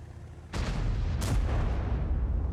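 A tank cannon fires in World of Tanks ranked battles, one sudden heavy boom followed by a sustained rumbling tail, with a second sharper blast shortly after, close and loud.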